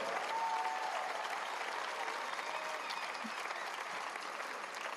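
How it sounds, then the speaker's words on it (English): Audience applause fills Etihad Arena in Abu Dhabi at an International Jazz Day all-star concert, a sustained, even roar of many hands clapping with a few faint whistles. "please give a round of applause"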